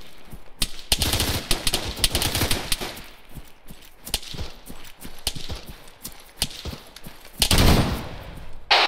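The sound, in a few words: rapid gunfire in ARMA 3, a video game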